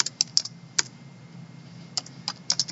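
Typing on a computer keyboard, with irregular sharp key clicks coming in small clusters over a low steady background hum, fairly close and moderately quiet.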